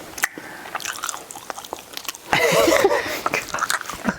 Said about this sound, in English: I cannot listen to you eat that